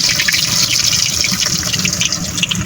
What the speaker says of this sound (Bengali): এখন আমরা মিষ্টিগুলা তেলের উপর দেবো।